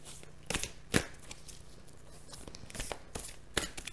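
Tarot cards are shuffled by hand for a reading, with soft riffling swishes and several sharper snapping riffles spread irregularly across the moment, close and fairly quiet.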